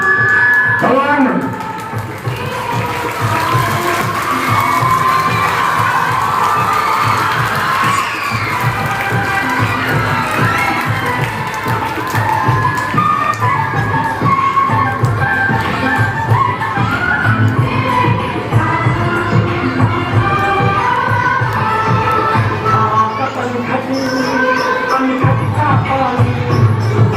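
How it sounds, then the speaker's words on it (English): At an Independence Day event, a large audience applauds and cheers in a dense, sustained wash of clapping and shouts with voices mixed in. The sound is loud throughout, with a brief drop near the end. "give a good round of applause"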